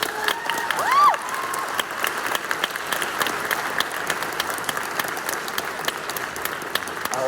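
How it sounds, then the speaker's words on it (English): An audience at a spring school band concert applauds steadily for several seconds, a dense patter of clapping with a brief whoop near the start, moderately loud in a hall. "A round of applause for them."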